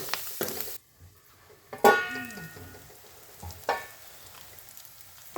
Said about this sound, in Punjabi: ਹੁਣ ਬਾਥੂ ਨੂੰ ਨਾ ਮਸਾਲਿਆਂ ਦੇ ਵਿੱਚ ਆਪਾਂ ਮਿਲਾ ਦੇਾਂਗੇ ਤੇ ਢੱਕ ਕੇ ਨਾ ਆਪਾਂ ਇਹਨੂੰ 2 ਮਿੰਟ ਪਕਾਵਾਂਗੇ